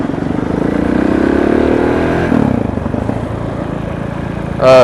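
A KTM 690 SMC supermoto motorcycle engine revs up steadily under load, drops briefly as a gear is shifted, then pulls again with a rough, throbbing tone, ending with a short loud burst.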